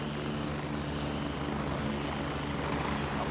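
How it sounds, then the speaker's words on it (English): An enemy helicopter in the video game Gray Zone Warfare, a steady, loud rotor and engine drone that fills the whole moment without a break. "Uh, enemy helicopter."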